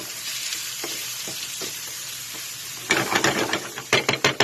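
White and red onions frying in olive oil in a pan, with a steady close sizzle that turns loud and busy as stirring begins, giving a run of quick scraping, clattering strokes.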